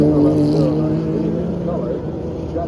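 IMSA, ALMS, Grand Am, FIA and World Challenge race cars from 1991 to 2011 roll by on a pace lap at the Rolex Reunion 2024, their engines a steady, loud drone while a commentator talks over it.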